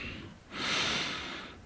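A single long, close inhalation drawn through the nose, a deep airy breath swelling and fading over about a second, heard alone with no talking.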